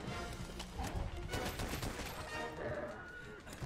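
Rapid bursts of light bowgun fire ring out in Monster Hunter World, dense overlapping shots crackling continuously and loudly for the whole stretch.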